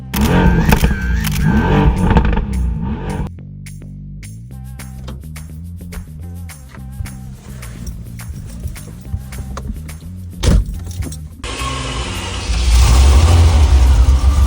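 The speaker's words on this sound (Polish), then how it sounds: "zabierzemy tą cudowną Testarossę na małą przejażdżkę w grudniu" A Ferrari Testarossa's engine revs and pulls through the gears on a December drive, loud and close, with rising and falling tones, a brief sharp burst, then a broad roaring rush at the end.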